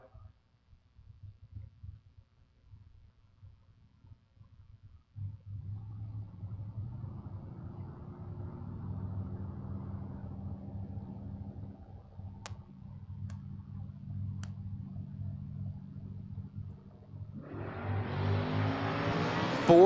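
Race cars run at the fall King of the Creek race. After quiet clicking, a low engine rumble rises from a distance and swells louder toward the end.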